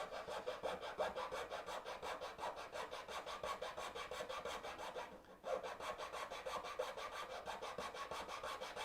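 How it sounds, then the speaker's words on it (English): Flat file rasping soft cedar wood in steady back-and-forth strokes, a close, even rhythmic scraping with one brief pause midway before the strokes resume. "A flat file."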